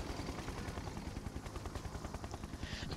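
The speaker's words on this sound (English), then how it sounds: "Siege chopper checking in." Siege Chopper helicopter from the Red Alert 2 game thrums with a continuous fast rotor chop, loud and steady throughout with no voices.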